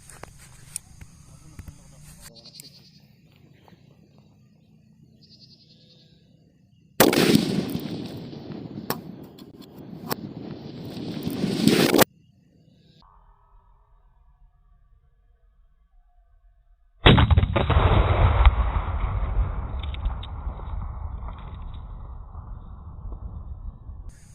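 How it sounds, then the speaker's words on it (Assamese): Several Diwali firecracker bombs are set off together, producing two loud, sustained bursts of crackling blasts. Quiet stretches come before, between and after them, and brief faint voices can be heard. "এইবাৰ 2-3টামান বোমা একেলগে লগাইছে হা।"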